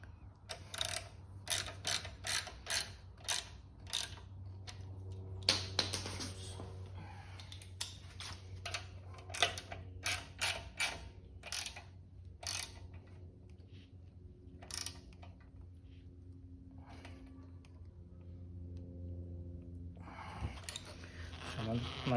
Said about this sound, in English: So turn it by hand. Turn it by hand, make sure everything's aligned properly.